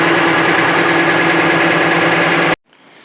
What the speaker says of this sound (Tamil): அந்த வண்டியோட சவுண்டு.